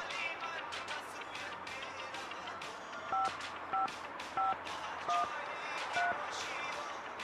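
A telephone number is tapped out on a keypad as a series of short electronic DTMF beeps, about five evenly spaced tones. They sound over a steady indoor background hum, with faint voices in the background.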